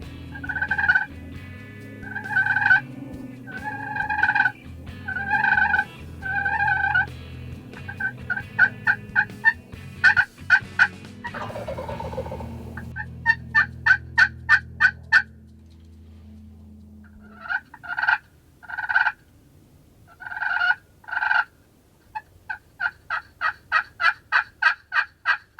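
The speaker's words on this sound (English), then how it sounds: "These birds were gobbling, strutting, they were responding to calls" Wild turkeys gobble repeatedly in the morning, with loud rattling gobbles in quick bursts, some overlapping and others answering from a distance. A low rumble sits underneath the early calls.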